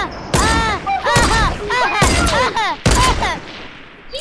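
Fortnite gunfire, a rapid series of sharp loud shots in bursts with ringing tonal sweeps between them, close and dominant across a few seconds.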